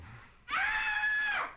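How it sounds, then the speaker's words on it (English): A single loud, sustained high-pitched scream starts abruptly after a brief quiet moment, holds steady for about a second, then fades. "And over the screams."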